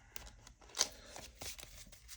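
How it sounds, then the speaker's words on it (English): Playing cards for the Marvel Champions card game are shuffled quietly, with a few soft riffling bursts and light taps close by. "so we will shuffle these up"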